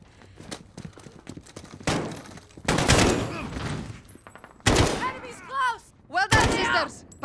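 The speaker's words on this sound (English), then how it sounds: "Point and shoot until they fall, like we said." Gunfire erupts during a Modern Warfare campaign mission, with loud bursts of automatic shots in several clusters between quieter stretches, and a voice speaks in the game at times.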